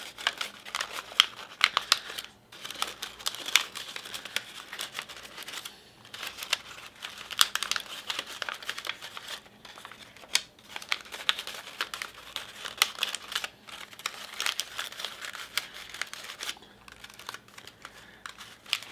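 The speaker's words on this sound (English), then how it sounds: "Now I'm going in, crinkling some of the flowers to spread them out." Paper rose petals on a bouquet are crinkled and spread apart by hand. Close, dry crackles and rustles come in irregular bursts with short quiet gaps.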